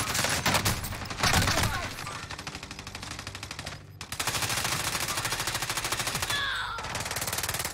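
Dense automatic gunfire in Call of Duty Warzone on Rebirth Island: loud, rapid bursts of shots that break off for a moment and then resume, with a player's voice briefly shouting over the fire.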